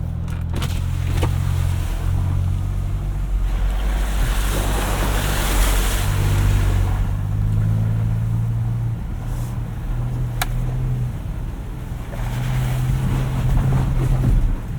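A Ford Ranger Raptor on 35-inch tires drives through deep water on a gravel road, engine rumbling steadily while water washes and splashes around it, with wind buffeting the microphone; no voices.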